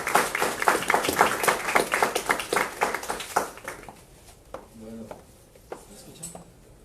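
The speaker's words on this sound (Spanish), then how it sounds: "Démosle un fuerte aplauso para iniciar con esta conferencia." Audience applause opening a university law lecture, a lively burst of many hands clapping that fades after a few seconds into sparse claps and quiet room noise with faint voices.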